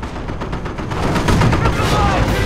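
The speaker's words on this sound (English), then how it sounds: "Taking small arms fire here!" Small arms gunfire rattles in bursts throughout a Company of Heroes battle, loud and dense, with a voice speaking over the shooting.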